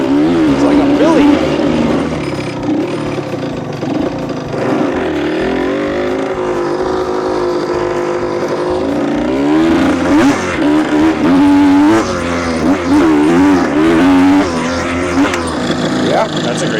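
A motorcycle engine idles steadily after a one-kick start, a loud close rumble running throughout while people talk over it.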